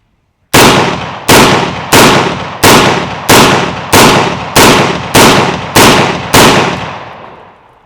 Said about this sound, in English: We'll go ahead and we'll shoot this 10